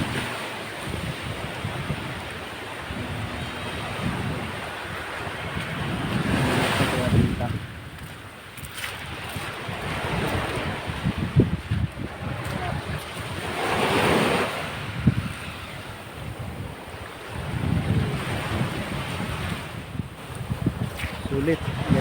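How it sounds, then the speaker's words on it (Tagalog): Surf breaks and washes in on a gravelly beach at Baler, rising and falling in slow surges, with steady wind buffeting the microphone throughout and a voice heard faintly at times. "Sa gilid ng beach."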